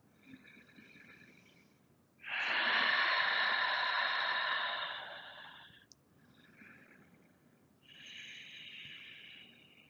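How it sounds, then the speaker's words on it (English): A slow, calming breath taken during a rhomboid stretch, heard close and soft: a long airy exhale, then a quieter second breath. "introduce a nice calming breath"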